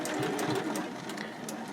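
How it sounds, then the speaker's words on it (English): A sewing machine stitching binding onto fabric using its free arm, a continuous close whirring hum with a fast rattling needle rhythm, going slowly and steadily. "And I am using the free arm on my sewing machine to do this."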